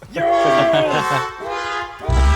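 A descending brassy wah-wah phrase, like a sad trombone, plays loudly for about two seconds, ending in a low thump.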